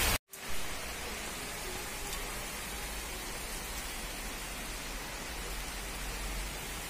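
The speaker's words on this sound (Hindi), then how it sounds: "बहुत ही जोरों शोरों पे जो है बाहर बारिश लगी हुई है" Heavy rain pours down steadily outside in Himachal, a dense continuous hiss that stays loud and even after a short moment of silence at the start.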